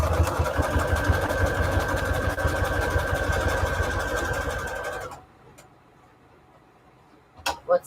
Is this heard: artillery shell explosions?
no